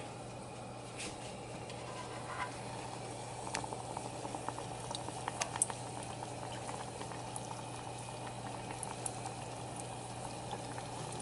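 An Oreo deep frying in hot oil, a steady, close bubbling sizzle with frequent small pops and crackles continuing throughout, with no talk.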